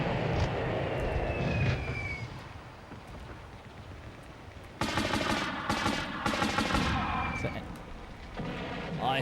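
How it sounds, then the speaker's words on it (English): Mortar and gunfire in the PlayStation war game Army Men: Land, Sea, Air, a steady, loud rumble of explosions and engine noise with bursts of rapid fire cutting in partway through, continuous to the end. "someone's actually aiming the mortars at me, I believe, because they keep hitting me"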